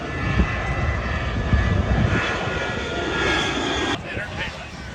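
Blue Angels jets at an airshow, numbers one and two approaching for a mirror-roll pass, make a steady loud engine roar that holds throughout and drops off sharply near the end, with a commentator talking over it.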